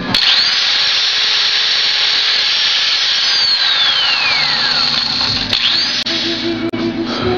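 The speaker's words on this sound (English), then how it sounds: "I just drill 3 holes." A power drill whines loudly as it bores holes through red oak for a picture frame, a sustained high motor drone with pitch sweeps as the bit spins up and slows, then a few short bursts.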